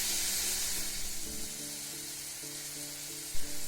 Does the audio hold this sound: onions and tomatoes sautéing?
yes